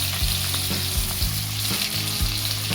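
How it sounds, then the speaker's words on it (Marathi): Onion sautéing in hot oil in a wok for a parwal (pointed gourd) sabji, a steady close sizzle broken by a few low thumps and scrapes of stirring, with no voices. "कांदा जरा परतून घेऊया आपण"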